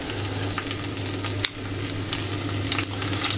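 Small pieces of pancetta frying in a hot non-stick pan for an Italian frittata, a steady close sizzle with faint crackles and light stirring clicks throughout, no voices.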